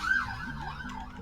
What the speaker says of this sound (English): Can you hear the horrible two-tone siren from the cop car outside?